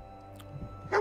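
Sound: dog barking, companion dog in Fallout 4 video game

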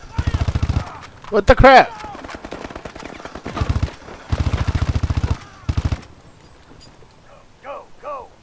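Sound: gunfire in the video game Advanced Warfare

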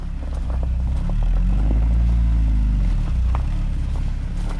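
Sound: VAZ 2101 engine revving, exhaust

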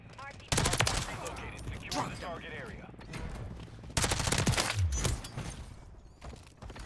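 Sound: gunfire in video game Call of Duty MW3

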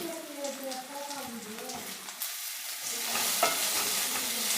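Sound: bay leaf frying with onions in a pan

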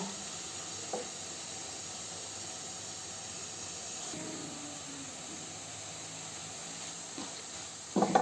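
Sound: water cooking off boiled cabbage in a pan

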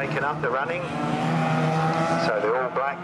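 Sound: micro banger race cars racing at Swaffham Raceway

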